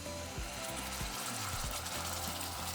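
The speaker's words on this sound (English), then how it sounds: "once the oil is nice and hot, going to strain our sauce" Red enchilada sauce is strained into a hot saucepan with oil, giving a continuous sizzling hiss and liquid spatter along with faint scraping clicks from the strainer, heard close.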